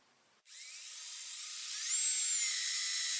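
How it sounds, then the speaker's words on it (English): A power drill bores guide holes into a wooden crossbar for a live edge console table, starting abruptly after a short quiet moment and then whining steadily, its pitch rising and its sound growing louder as it runs. "I'm just going to mark out where I'm going to drill my 2 holes to guide the screw."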